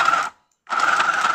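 A mini sewing machine stitches in loud, fast, steady buzzing runs, stopping for a short silent gap and then starting again, with no voices.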